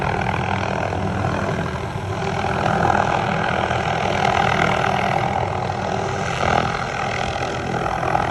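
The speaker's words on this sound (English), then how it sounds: "we had some helicopters flying around here in the early morning" Distant rumble of helicopters passing overhead at an early-morning truck campsite, a steady broad drone that swells slightly midway, with no talking.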